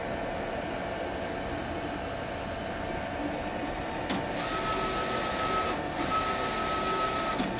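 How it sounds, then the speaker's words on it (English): A printer runs steadily up close, printing a mirrored design onto reverse print heat-transfer material, with a continuous mechanical whir and a couple of brief louder passes. "So I'm going to go ahead and print the design we've been working with."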